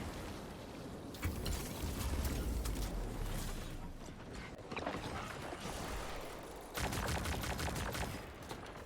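A Destiny 2 weapon that fires four bullets per shot, heard as repeated clattering bursts of gunfire with mechanical clacks, moderately quiet and mixed with other game action.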